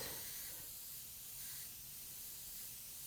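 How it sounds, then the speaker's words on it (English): Spray paint hisses continuously onto a fantasy art painting, a close, steady aerosol spray with a slight dip midway and no talking. "I'm not spraying in this direction because I don't like to dust the area that I just paint with the yellow"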